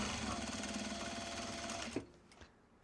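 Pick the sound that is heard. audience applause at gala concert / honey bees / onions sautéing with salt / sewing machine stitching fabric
sewing machine stitching fabric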